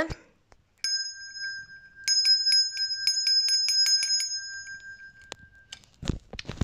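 A small bell, a schoolboy's collection piece, rings alone in a series of clear bright strikes, single taps at first, then a quick run of about ten, ending with a soft rustle nearby.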